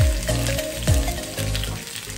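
Garlic cloves, tomato and onion hit hot oil in a frying pan, bursting into loud sizzling with a few scraping stirs, close and alone without speech.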